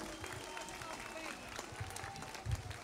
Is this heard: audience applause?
yes